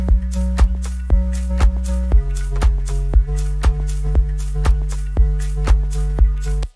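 Electronic drum groove joined by a deep sustained synth bass that shifts pitch every couple of seconds, with steady kick hits and crisp hi-hats over it, loud and upfront.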